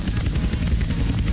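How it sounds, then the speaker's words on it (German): A helicopter flying in the video game GTA San Andreas, its rotor a loud, steady low thrum with a continuous fluttering pulse and no pauses, close and filling the whole moment, with no talking. "das ist ein bisschen schwerer, den Helikopter zu fliegen"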